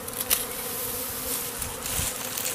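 A swarm of honeybees buzzes steadily around a nearby hive site in April, a dense, continuous drone with a few louder passes close to the microphone.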